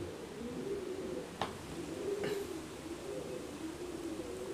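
A French Mondain fancy pigeon, a heavy bred breed kept in a wire cage, cooing in soft, low repeated rolling phrases at a distance over steady background noise, with a couple of faint sharp clicks.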